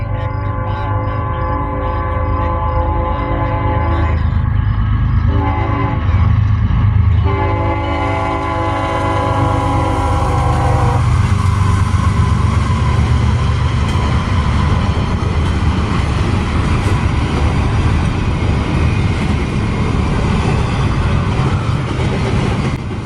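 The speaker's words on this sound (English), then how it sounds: "First train of the evening would be CSX I-157 with something trailing in tow" A CSX freight train rumbles past close by, its multi-tone horn sounding in several long blasts before giving way to the roar and clatter of rolling cars.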